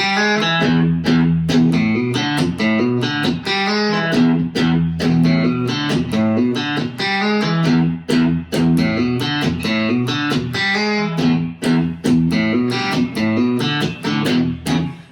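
A solo electric guitar plays the hammer-on riff from the bridge of a song, with quick plucked notes in a steady, repeating rhythm and a slightly gritty tone, loud and close.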